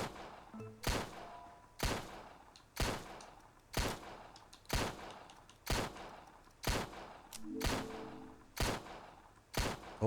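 Gunfire in the video game Empire of Sin during an attack on a guard, a series of about ten loud, sharp shots evenly spaced roughly one second apart, each with a short decaying tail.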